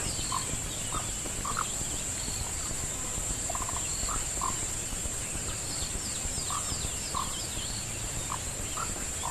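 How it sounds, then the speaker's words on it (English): Frogs calling at night during an African safari drive, scattered short croaks and chirps repeating over a constant backdrop of high insect trill and low rumble, with no talk. "Listen to these frogs. Such a beautiful sound."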